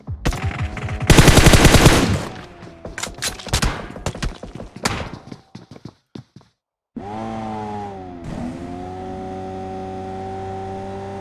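Rapid bursts of video game gunfire in a multiplayer battle scrim, loud machine-gun rattles and scattered single shots, then a brief silence before steady vehicle engine drone with a rising whine.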